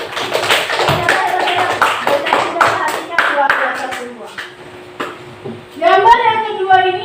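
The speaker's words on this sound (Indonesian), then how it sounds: "Tepuk tangan dulu dong buat kita semua." Classroom children clap their hands in a burst of sharp, uneven claps for several seconds, close by, with scattered voices; it fades and a voice speaks at the end.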